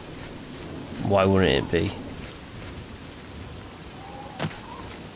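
Steady rain in the video game Oblivion, a soft even patter under a man's brief spoken line, with a faint distant rumble near the end.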